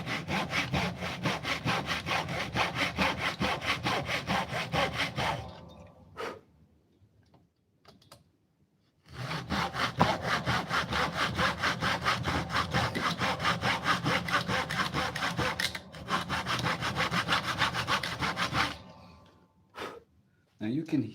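Steady back-and-forth strokes of a cheap hand saw cutting a wooden box, close and loud, in two long sawing runs split by a quiet pause, with a few sharp cracks of wood under pressure.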